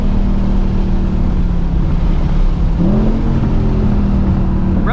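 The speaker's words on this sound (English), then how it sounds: "Rev matching is good." A 2024 Ford Mustang Dark Horse with a Tremec manual on track, its engine droning loudly then blipping up in a quick rev-match as it downshifts, a close, continuous roar.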